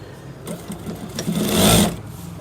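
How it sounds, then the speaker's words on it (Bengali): A sewing machine stitches the back pocket of a pair of trousers in a tailor's shop, running in a steady mechanical whir that builds toward the middle and then eases off. "মাঝখান দিয়ে সেলাই করবেন একটু।"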